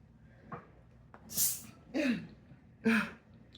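Several short, sharp nasal bursts a second apart, a sneeze with quick breaths and gasps around it, close and fairly quiet.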